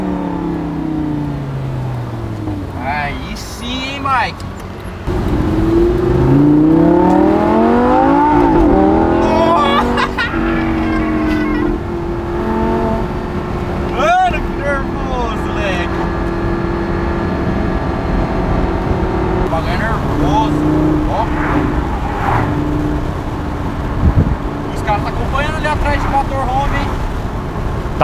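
Lamborghini engine revving hard while driving on a road, rising and falling sweeps of loud engine sound with people talking over it throughout.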